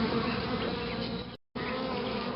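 Steady, loud swarm of bees buzzing close up, a dense continuous drone that cuts out for a brief moment before resuming, with no voices.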